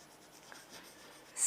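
Short, faint scratchy strokes of a pen or marker writing on a board in an accountancy lesson, close and quiet with no talking over them.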